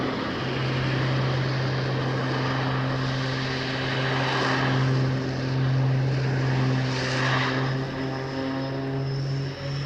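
A Pitts aerobatic biplane with a propeller engine drones steadily through a hover manoeuvre and torque roll at an air show, a loud sustained propeller hum with slight swells in pitch, and no voices over it.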